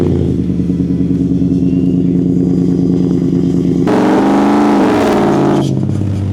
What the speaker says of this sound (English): On the exhaust, we wanted to make sure it had a good sound